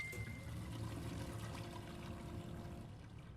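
Bidet toilet flushing in the video game Aperture Desk Job, a steady rushing and pouring of water that holds for a few seconds and then tapers slightly at the end, heard alone.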